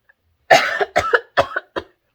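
Several hoarse coughs from a person with a cold, in quick bursts: a long fit followed by three shorter coughs, close and fairly loud, with no talking.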